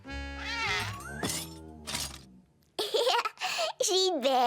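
A cartoon cat meows in a French animated children's show. Several short, tonal meows and mews are heard in quick succession, some rising in pitch, with a voice also present.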